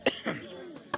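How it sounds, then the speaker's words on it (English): Someone near a freshly mixed batch of concentrated organic pesticide coughs and clears their throat, a short close burst followed by rasping, with another small cough at the end. "I can see people are now coughing."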